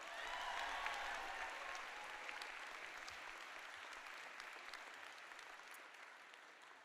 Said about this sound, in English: One more round of applause for Asia Norton.